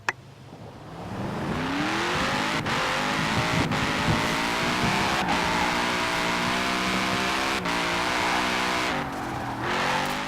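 A sports car engine in the racing video game Forza Horizon 4 revs up and holds a high, droning roar, rising in pitch with brief dips between gear shifts, loud and steady.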